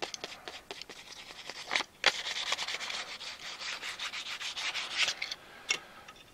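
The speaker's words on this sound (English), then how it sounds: "So what I'm going to do is take the very fine steel wool" Fine steel wool rubbed over a wooden rifle stock for a Winchester 06 restoration, giving a close, steady scratchy rubbing with short strokes and a few sharper scuffs, no voices.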